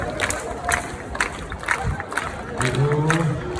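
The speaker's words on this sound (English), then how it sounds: "Everybody, clap along with David." Street audience in London's theatre district clapping along in a steady, rhythmic beat, sharp hand claps repeating about every half second amid crowd noise and shouts.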